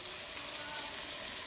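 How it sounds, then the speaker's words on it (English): A sausage begins frying in a hot pan, a short burst of bright, steady sizzling hiss heard up close and alone. "Now I am starting the sausage."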